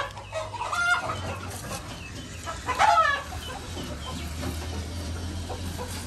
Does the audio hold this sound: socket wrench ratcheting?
no